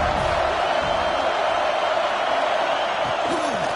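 A stadium crowd at a college football game in the video game College Football 26 keeps up a steady, loud roar, with faint calls and whoops rising from the mass of noise.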